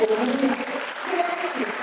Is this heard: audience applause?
yes